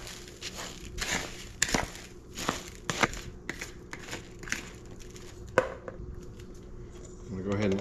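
Imitation crab meat being mixed with panko breadcrumbs and parsley for crab cakes, a string of close, soft crunchy squelches and thuds with irregular rhythm, with faint background noise and no talk.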